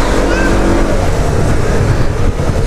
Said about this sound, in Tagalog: Yung sinasabi ko, nag-i-scream yung engine